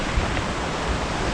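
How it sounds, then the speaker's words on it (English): Steady broadband rush of the River Oykel flowing in the Scottish Highlands, an even, close wash of water with no talk over it. "the River Oykel"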